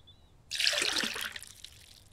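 Water trickles into a bottle in the survival video game Mist Survival, a soft steady stream starting abruptly after a brief quiet moment, then gradually tapering off, faint and with no speech.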